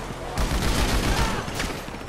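A dense burst of rapid gunfire in GTA 5 Online, loud booming shots rattling in quick succession for about two seconds, with no talk over it.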